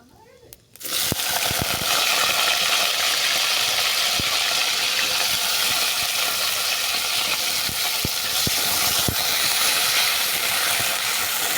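Chopped potatoes fry in hot oil with a steady, close sizzle that starts abruptly and runs throughout, with occasional clicks of a utensil against the pan.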